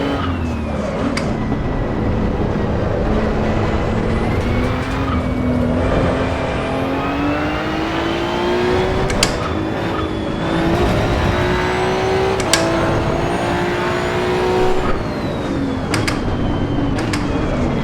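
Race car engine in Assetto Corsa EVO driven hard, a loud continuous engine note rising and falling through revs with several sharp gearshift clicks, steady and close throughout.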